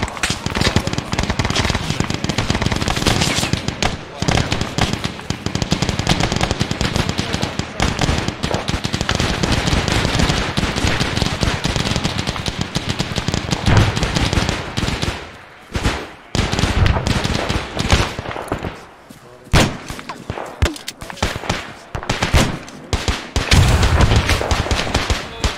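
Dense, continuous gunfire and explosions from the video game ArmA 3 in a World War II Omaha Beach D-Day battle: rapid rifle and machine-gun bursts with heavy blasts, loud and relentless, thinning briefly near the end before picking up again.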